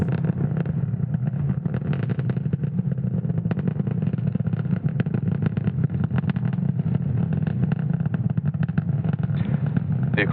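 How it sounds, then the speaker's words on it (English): Falcon 9 rocket engines roaring in a continuous, loud, dense rumble at night lift-off from Space Launch Complex 40 at Cape Canaveral, Florida, steady and crackling throughout with no voices. "has successfully lifted off from Slick 40 at Cape Canaveral, Florida at 1:31 a.m. Eastern Time"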